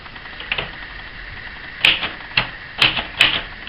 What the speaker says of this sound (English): Has a snappy little type action and a nice little font.